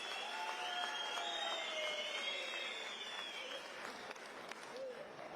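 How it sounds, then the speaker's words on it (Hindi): A crowd at an outdoor political event in Shimla claps to welcome the state's chief minister, a faint, distant spatter of applause beneath a loud chorus of chirping birds. "मैं चाहता हूं कि जोरदार तालियां बजाकर आदरणीय जयराम ठाकुर जी का स्वागत किया।"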